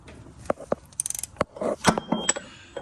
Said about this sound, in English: my extension for my wrench, and I'm gonna loosen this up